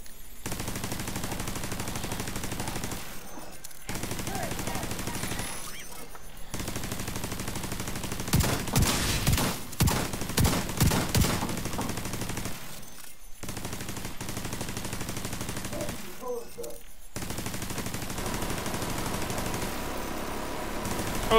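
Sustained automatic turret fire rattles through a firefight in the video game Division 2, loud and continuous with brief gaps and a denser burst midway, a voice faintly under it.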